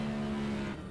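A Next Gen NASCAR race car in a racing video game at New Hampshire brakes into its pit box, giving a loud, steady engine drone that eases slightly at the very end of a brief moment.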